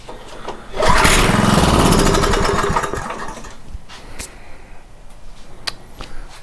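Someone pull-starts a rusty two-stroke Craftsman rototiller with a dirty carburetor, producing one loud, sputtering burst of the small engine that fades out within about two seconds, followed by quieter clanks and handling noises.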